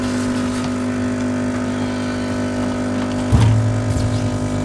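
A turbocharged Mazda MX-5 engine idles roughly at its first start after a rebuild with new bearings, bolts and rings, a steady low drone with a brief louder burst near the end.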